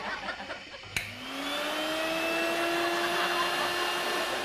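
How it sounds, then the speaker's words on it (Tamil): A kitchen mixer grinder is switched on with a sharp click, and its motor whirs up at once to a loud, steady high-pitched drone that holds to the end. "என்னடா மிக்ஸி ஓடுது?"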